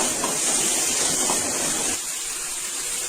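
Fresh sundakkai (turkey berries) sauté in a hot pan for tamarind kuzhambu, giving a steady close-up sizzling hiss that eases slightly near the end, with no talking.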